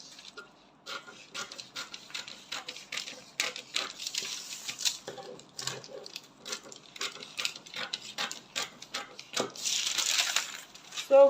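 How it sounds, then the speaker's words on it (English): Scissors cutting through corset fabric along a drafted pattern, a series of crisp snipping and rustling strokes close by, irregular in rhythm, with quiet handling noises between cuts. "So I'm going to cut now."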